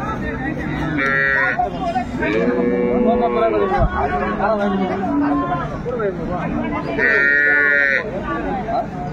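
Dairy cows and calves of an improved breed low at a busy cattle market in Dinajpur, with several loud moos, some nearby and some further off, heard over steady talk and bargaining voices.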